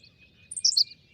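A Henslow's sparrow makes a single quick, high-pitched twittering call, faint and distant, over a quiet grassland background with no one talking.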